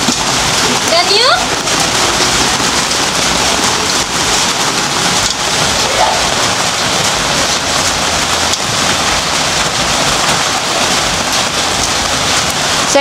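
Heavy rain pours onto a tarp in the Philippines, a loud, unbroken hiss and patter that holds steady throughout.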